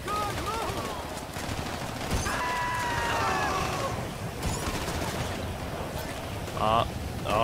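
Gunfire bursts from a zombie-survival video game crack through a busy mix of noise and speech-like talk, with a sharper cluster of shots near the end.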